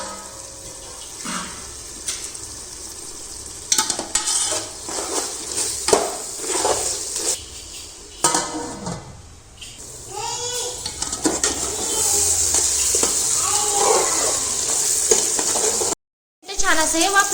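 Chicken biryani cooking in a pot over a medium gas flame, with steady sizzling and repeated scraping stirs that run continuously and fairly loud, with no talking.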